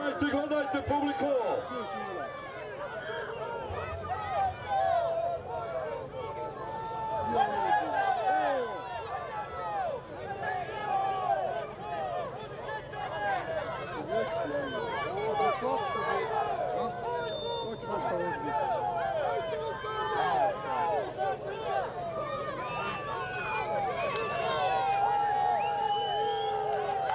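A crowd cheers and shouts around a folk wrestling bout in Sanski Most, a steady roar of whoops and excited voices continuing throughout, close and lively.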